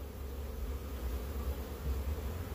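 A dense, low, continuous buzzing of many bees crowded inside an open beehive box, close and steady, with no voices.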